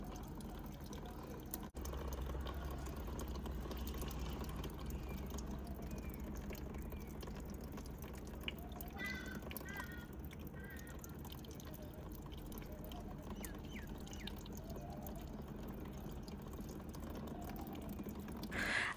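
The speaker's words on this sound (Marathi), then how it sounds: "एसीचं पाणी पडतं त्याचा तो आवाज येत होता." Water dripping from an air conditioner onto a surface outside a home makes faint, irregular ticking drips under a steady low background hum, with no one talking.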